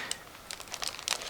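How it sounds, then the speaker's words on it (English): A plastic bag holding parts for a Tamiya 1/48 Nashorn model kit crinkles as it is opened, a few short, close, scratchy rustles in bursts against a quiet room. "So I'm opening the next plastic bag in the meantime"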